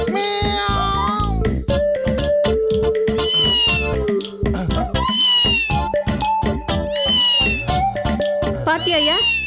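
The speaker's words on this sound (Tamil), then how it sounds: "ஆமாம்மா, உள்ளதான் பூனை இருக்கு." A cat meows repeatedly in an animated Tamil children's fantasy series, the calls rising and falling over a steady tonal, music-like background.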